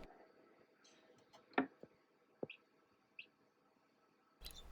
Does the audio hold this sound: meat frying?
no